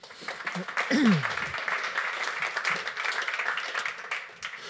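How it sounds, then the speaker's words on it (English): Audience at a Renault design masterclass during Dutch Design Week clapping to welcome Laurens van den Acker, a continuous spread of applause with a brief voice rising over it near the start. "Give him a warm applause."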